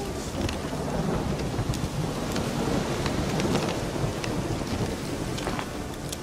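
A thunderstorm in The Witcher 3 pours steady, dense rain with rolling thunder underneath, and sharp drops spatter throughout at a constant loud level with no pauses.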